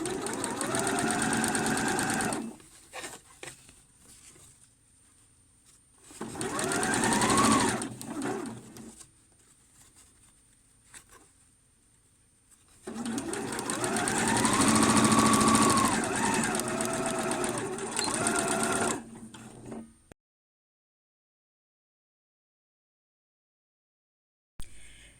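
A sewing machine stitches bias binding along a pyjama hem in three loud, rapid whirring runs separated by quiet pauses, then falls silent near the end.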